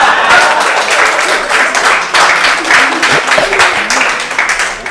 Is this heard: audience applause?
yes